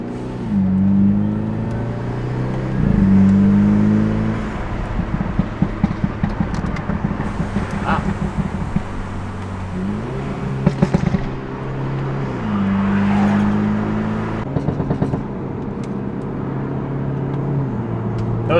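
BMW 328i with a Valtronic axleback, resonator delete, stock downpipe and mild stage 1 tune, revving loudly from inside the car: rising engine pulls broken by rapid bursts of sharp exhaust pops and crackles on lift-off.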